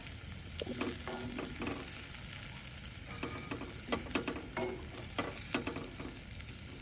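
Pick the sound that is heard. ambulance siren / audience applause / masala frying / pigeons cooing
masala frying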